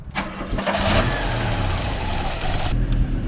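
An MK2 Volkswagen Jetta with the choke in cranks and fires up, its engine catching quickly and settling into a loud, steady rumble close by, then cutting out near the end.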